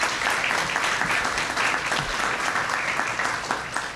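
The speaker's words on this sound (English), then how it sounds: "Round of applause to her." Audience applause at a county Teacher of the Year ceremony, loud dense clapping from a full room sustained evenly across the moment.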